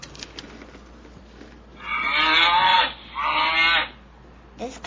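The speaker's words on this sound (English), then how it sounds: "This cow is standing with a baby calf." A cow standing with her baby calf gives two long, loud moos in close succession, near and clear, with quiet farm ambience around them.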